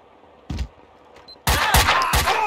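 A single gunshot in Max Payne 2, then a loud rapid burst of repeated gunfire close up, sharp cracks in quick succession.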